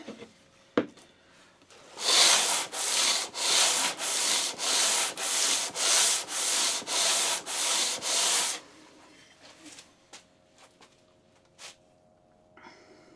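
A Lie-Nielsen No 5 hand plane makes about ten rhythmic, close strokes across a wooden board, each a loud rasping swish with short pauses between, followed by quiet.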